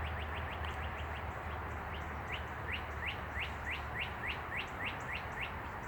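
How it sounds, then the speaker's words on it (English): Birds in a tree on a Sunday afternoon at a condo, giving a steady series of short, rising chirps and tweets that repeat over a constant low background hum. "I'm just trying to catch the sound of the birds in the tree Sunday afternoon."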